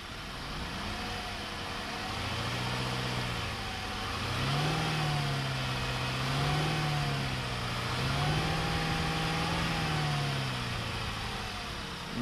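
A 2015 Cadillac SRX engine idles steadily, then revs up in several smooth, swelling pulls before settling back, heard up close and alone at a moderate, fairly quiet level.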